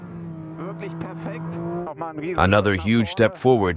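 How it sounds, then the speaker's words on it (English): A 2025 Porsche 911 GT3 driving through curves hums with a steady engine tone, alone at first, then under someone speaking close to the microphone. "Here in the curves too, the car absorbs waves really perfectly."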